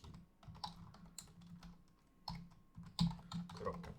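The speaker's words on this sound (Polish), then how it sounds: "wpisujemy sobie jakieś hasło" Someone types on a computer keyboard while filling in a web sign-up form, giving quiet, close, irregular bursts of key clicks with short pauses between them.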